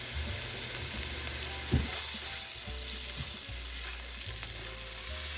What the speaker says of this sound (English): So I'm going to cook the veggies down first, let them cook down and get that good flavor in there